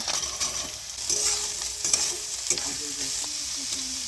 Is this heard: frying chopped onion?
yes